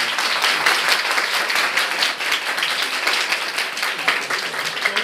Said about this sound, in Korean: 힘찬 박수로 맞이합니다